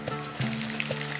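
A vegetarian dish shallow-frying in a pan, a continuous close sizzle with a faint steady tonal hum underneath and a few soft stirring knocks.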